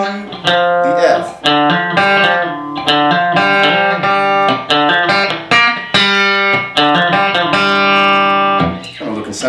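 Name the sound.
guitar cascading 16th note lick with open strings and hammer-on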